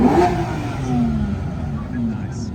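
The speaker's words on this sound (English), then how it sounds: "It's full of smoke and a lot of super bikes all revving." Superbikes rev their engines amid smoke at a car event, a continuous rumbling roar with rising engine pitch, heard from nearby alongside background voices.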